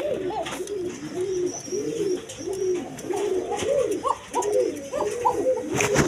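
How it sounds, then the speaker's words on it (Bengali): A pair of pigeons coo repeatedly in a steady, rhythmic series of throaty, rolling calls, close by. A few brief sharp noises sit in the background. "এখানে এক পেয়ার পোকা কবুতর আছে, দেখেন ডাকতে আছে"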